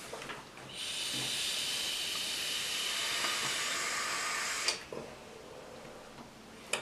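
A long, steady hiss of e-cigarette vapour being exhaled, fairly loud and close, running for several seconds before stopping, followed by a couple of faint clicks.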